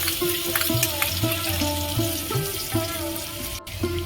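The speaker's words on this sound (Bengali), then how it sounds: "তেল গরম হয়ে গেছে রসুন কুচি দেব" Chopped garlic sizzles in hot oil for a momo chili sauce, a close, continuous frying crackle with repeated rhythmic scraping or stirring pulses underneath.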